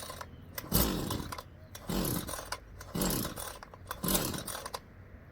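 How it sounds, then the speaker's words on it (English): A Husqvarna 329L straight-shaft string trimmer is pull-started by hand with the choke up, giving four evenly spaced rasping cord pulls with brief sputters between, close and fairly loud. "Pull this choke up, hold your hand on it, crank it till you feel resistance."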